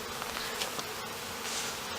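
Honey bees buzz in a dense, continuous drone around a sugar syrup feeder, close and loud with no talk over it.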